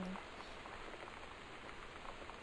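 Rain falls in the video game Gone Home, a soft, steady hiss of drops that stays even and faint throughout, with no speech over it.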